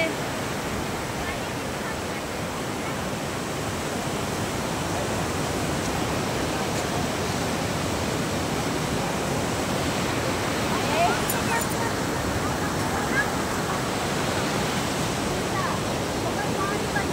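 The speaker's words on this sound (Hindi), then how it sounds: "इतनी रात में इतनी बारिश हुई ना कि इतना बाढ़ आ गया शहडोल में" Rushing floodwater after a night of heavy rain in a town, a dense, unbroken roar of moving water that holds steady throughout, loud and close.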